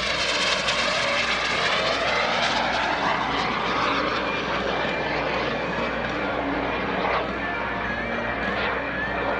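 Small jet airplane making a pass at the Greenwood Lake Airshow in 2021, a steady loud roaring whoosh with a shifting pitch sweep as it flies by, sustained throughout with faint crowd noise beneath.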